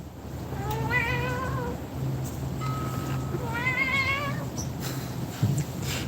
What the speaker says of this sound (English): Is she meowing? She is.